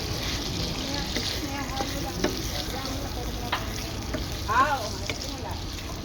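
Vegetables for pinakbet sizzle and fry in a pan, giving a steady close hiss with occasional stirring scrapes, while a voice briefly speaks over it.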